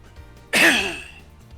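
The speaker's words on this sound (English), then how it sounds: "I took a coughing pill today, so, you know, you gotta hear me cough." A single sharp cough-like burst, loud and close, breaking out of near silence and trailing off over about a second.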